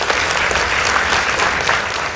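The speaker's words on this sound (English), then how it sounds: "Please give them a round of applause." Steady, dense applause from a school audience at a high school debate competition between St Mary's Igoji and Josirines Girls, continuous clapping filling the whole stretch without pause.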